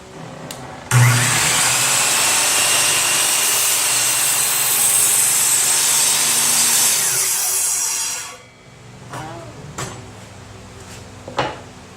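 A saw cuts steadily through a wooden board for a bluebird house, a loud continuous rasping whine lasting about seven seconds before stopping, followed by a few light knocks and clatters.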